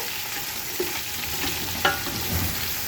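A generous heap of onions sautéing in oil for khichuri sizzles steadily and close, with a couple of soft stirring scrapes and no talk.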